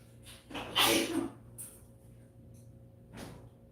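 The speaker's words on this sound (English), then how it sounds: "something making me sneeze" A single sharp sneeze bursts out close by, followed by a few softer sniffs and breaths in a quiet room.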